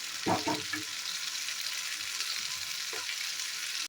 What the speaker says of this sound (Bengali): এই যে দেখো ভাজাটা চালু করে দিয়েছি এদিক ওদিক এপাট ওপাট করে ভালো করে ভেজে নেবো